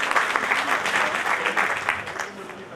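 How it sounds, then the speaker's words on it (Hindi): A crowd at a Delhi Hindustani Mercantile Association meeting applauds, giving steady mid-level clapping while a voice carries on over it. "जोरदार तालियों से"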